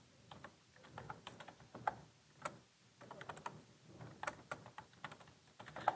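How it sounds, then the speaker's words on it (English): Calculator buttons are pressed in a quiet room, a run of light, faint plastic clicks and taps in irregular clusters with short pauses between them. "When I type that in my calculator, that gives me"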